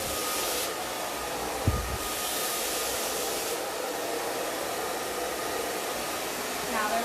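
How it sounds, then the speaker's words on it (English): A hair dryer blows steadily and loudly close by while hair is styled with a paddle brush, its airflow running almost unbroken throughout, with a brief bump and a small shift in pitch near the end. "you can blow dry them together"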